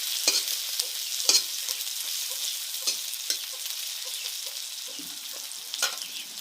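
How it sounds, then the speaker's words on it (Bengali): Vegetables with green chillies frying in a pan, a steady hiss of sizzling oil with repeated light scrapes and taps of a spatula stirring throughout. "সবটাই এখন ভেজে নিব।"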